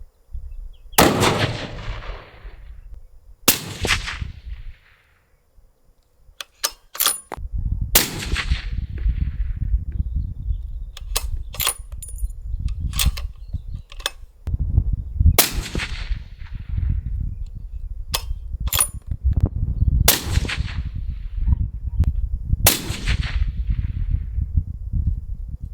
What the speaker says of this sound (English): I did 5 rounds suppressed